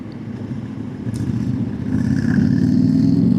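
Motorcycle engines on a group ride to Pawna Lake drone steadily nearby, the pitch rising as one rider throttles up toward the end.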